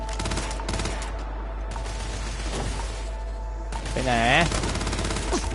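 Rapid bursts of gunfire ring out in the space game Starfield, with clustered automatic shots in the opening seconds and more later, while a player talks over the action.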